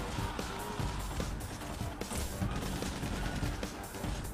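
Rapid, continuous gunfire from SWAT shotguns and assault rifles in the heist video game Payday The Heist, with dense overlapping shots and crashes that stay loud and steady throughout.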